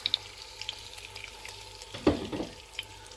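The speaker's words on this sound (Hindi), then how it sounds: "तो मैं इसके अंदर थोड़ा सा पानी ऐड करती हूँ, तकरीबन आधा कप" Water goes into sizzling aloo gosht in an open pot, giving a sudden splash and a burst of hissing over the steady frying crackle, with a few light clinks.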